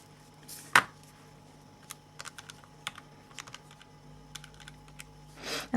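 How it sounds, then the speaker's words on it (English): Quick light key presses on a calculator keypad, a handful of close, soft taps in an irregular run with one sharper click near the start, alone in a quiet room. "And then I can type that into the calculator."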